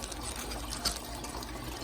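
Water pouring steadily into a tank, a continuous even gush and trickle at moderate level with no talk.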